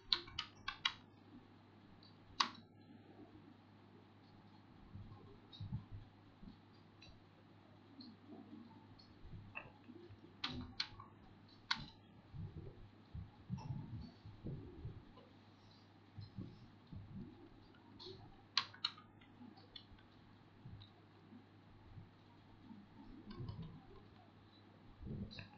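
Typing on a computer keyboard in a quiet room: soft, irregular key clicks arrive in scattered bursts, with a few sharper clicks mixed in, close by and faint over a low, steady background hum.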